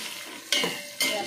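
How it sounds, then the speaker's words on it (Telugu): Red onions and green chillies fry in a pan, a soft steady sizzle broken by two quick stirring scrapes, close and moderately quiet with no voices. "తర్వాత ఎర్రగడ్డ పచ్చిమిర్చి వేస్తున్నానండి. బాగా వేగాలండి."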